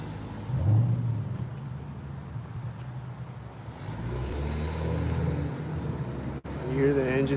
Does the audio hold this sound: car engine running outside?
yes